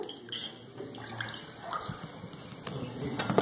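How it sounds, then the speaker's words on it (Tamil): Onions being scrubbed and rinsed under a running kitchen tap, a steady close splash of water with light handling noise throughout. "இப்படி மேலே இருக்கக்கூடிய இந்த கருப்புகள்லாம் நல்லா தேய்ச்சி கழுவி எடுத்துருங்க"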